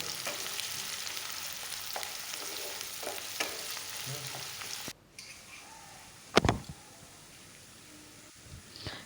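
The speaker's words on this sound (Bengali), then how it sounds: "পেঁয়াজগুলোকে লাল করে ভেজে নেব।" Chopped onions hitting hot oil with cumin seeds in a pan, a loud steady sizzle that drops abruptly midway, followed by a sharp clatter and a softer continued frying.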